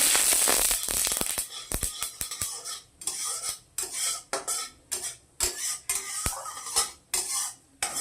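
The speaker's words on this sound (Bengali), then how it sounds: "সাদা সর্ষেটাই দিয়ে দিচ্ছি" Dried chillies and white mustard seeds crackle in hot oil as a spoon scrapes and clinks repeatedly against the pan, starting with a loud sizzle burst that settles into irregular, close stirring strokes.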